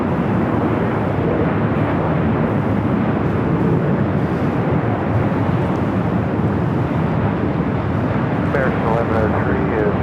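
Heavy jet airliners roar on takeoff from runway 24 left at LAX, a loud continuous broadband rumble with wind buffeting throughout and a faint voice near the end.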